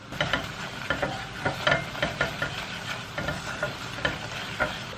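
Flour being sautéed in a pot for lentil soup, with quick, rhythmic scraping strokes of a spoon repeating steadily over a soft background sizzle, close and fairly clear.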